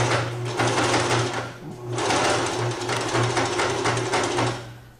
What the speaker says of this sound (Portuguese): Continua a costura em cima do pesponte.